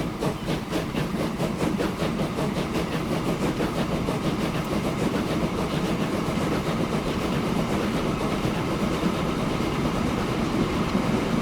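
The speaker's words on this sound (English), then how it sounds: "we're going to be constantly stuck behind a train" A train running past in the Transport Fever 2 simulation game, a steady rolling rumble with rhythmic clickety-clack of wheels on rail joints, sustained and fairly loud for the whole stretch with no talk.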